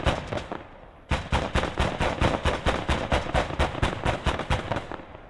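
Sustained gunfire in the WWII strategy game Gates of Hell: Ostfront, set in the invasion of Poland: a few shots, a brief pause, then a dense run of rapid, evenly spaced loud bursts, close and continuous with no talking.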